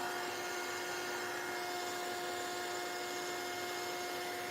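A heat tool runs steadily to dry a mixed-media collage, giving a loud, constant blowing whir with no talk.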